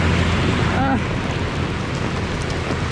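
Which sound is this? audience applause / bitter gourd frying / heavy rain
heavy rain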